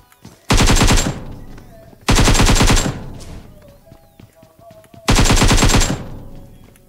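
Three loud bursts of automatic gunfire from a PUBG Mobile firefight, each lasting under a second, separated by quieter gaps with scattered distant shots and game noise.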